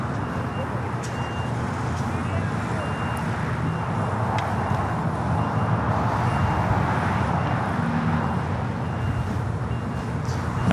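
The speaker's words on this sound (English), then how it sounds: "the 777 now started its taxi down to 25 at right" A Boeing 777 airliner taxiing toward the runway at LAX, heard as a steady broad engine roar that holds level throughout, somewhat distant and continuous with no voices over it.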